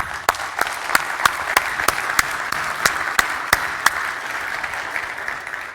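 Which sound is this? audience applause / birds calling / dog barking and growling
audience applause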